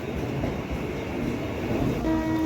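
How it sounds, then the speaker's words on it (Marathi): A Mumbai local train pulls into Malad station at dawn, with a steady, close rumble and rattle of carriages and a faint tonal whine or horn rising near the end. "चला तर ट्रेन आलेली आहे."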